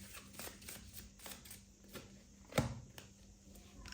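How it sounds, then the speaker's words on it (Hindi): Tarot cards are handled and shuffled at close range, faint papery riffles and slides, then one crisp sharp snap as the last card is drawn from the deck. "Let's take the last card."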